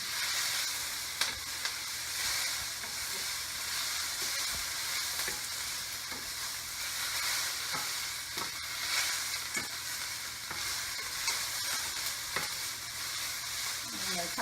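Vegetables for a peanut stir-fry sizzle steadily in a hot pan while a utensil stirs them, giving intermittent scraping clicks over a continuous frying hiss, close and with no one talking.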